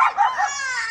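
A dog barks and yelps close by outdoors in one continuous, strained, whine-like outburst that stays loud for the whole second, with no talking over it.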